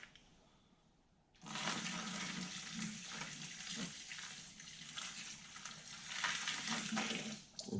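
Water from a jug pours into a bucket in a shop, a sudden steady splashing gush that starts after a quiet second and continues loudly with fluctuating burbles.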